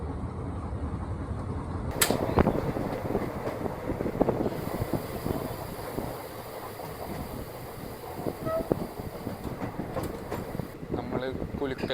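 A passenger train on the Shoranur–Nilambur line pulling into Kulukkallur railway station, heard from on board as a steady rolling rumble with faint rail clatter, wind buffeting and a sharp bang early on.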